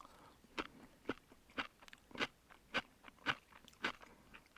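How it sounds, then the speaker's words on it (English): Crunchy vegetables eaten alongside kokanee salmon at a solo kayak campsite give close, crisp crunching bites in a steady rhythm, about eight distinct chews over a quiet background with no talking. "The veggies are crunchy."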